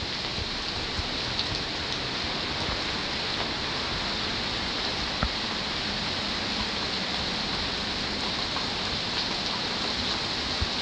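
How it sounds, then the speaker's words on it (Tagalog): Heavy rain pours steadily onto connected roofs at a market in a dense, continuous hiss, loud and close, with no letup for the whole stretch. "talagang malakas ang bagsakan ng ulan"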